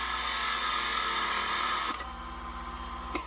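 A Silca Flash key cutting machine deburring a freshly cut key gives a steady high-pitched motor whine with a brush-like buzz. It cuts off partway, then a lower running hum continues with a brief click near the end.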